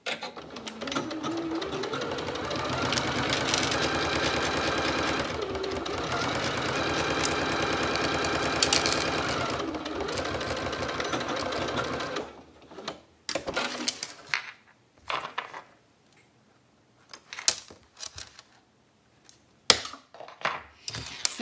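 A sewing machine stitches a zipper pouch closed in a long, steady, close run, then pauses and gives several short bursts of stitching separated by quiet gaps.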